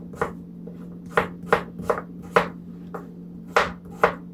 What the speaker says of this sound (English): Dicing away.